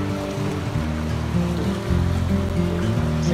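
Splashing, sloshing water as a wolf swims through a creek in the video game WolfQuest, a continuous close wash layered with low game music tones, no talk.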